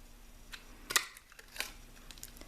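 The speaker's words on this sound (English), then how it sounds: "here's my little punch. I'm gonna punch out the basket." A small craft paper punch cuts a hot air balloon basket shape from cardstock at a kitchen table, giving two quiet, sharp clicks about half a second apart over a faint background hiss.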